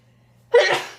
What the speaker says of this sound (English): So this entire night, I'm gonna sneeze.